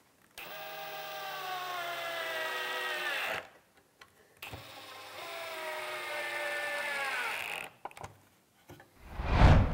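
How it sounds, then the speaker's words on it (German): Screws are driven to fasten a wooden stop block onto a circular saw jig: two long, steady whirring bursts of a power driver, each slowing slightly as it tightens, separated by brief clicks and handling noise. "dann können wir ihn festschrauben und sind auch schon fertig"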